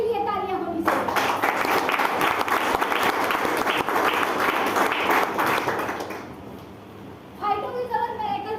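An indoor audience at a company seminar claps loudly and continuously for about five seconds, then the applause fades; speech is heard before and after the clapping.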